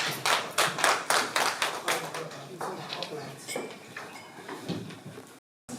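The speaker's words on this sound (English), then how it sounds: "A round of applause, please" Scattered hand clapping from a small audience at a women's conference in Berlin, a few distinct claps at first that thin into sparse tapping, fairly close, with a brief silence before a final clap.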